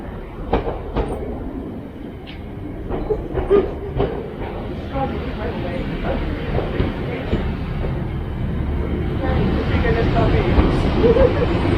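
A train rumbles along the rails of the GWR Looe Valley Line with a steady clickety-clack of wheels, growing slightly louder over time, with faint background noise throughout.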